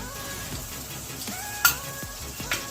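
A spoonful of garlic paste sizzles in a pan of half-fried onions, a steady close hiss broken by a bright scrape of a utensil and a lighter knock near the end, with no voices.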